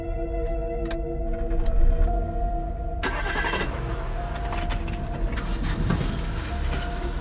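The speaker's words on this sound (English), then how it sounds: "Trevor, can you turn on the generator for me?" A portable generator kept in a garage starts up with a sudden, loud engine roar that then settles into a steady, close, continuous running drone.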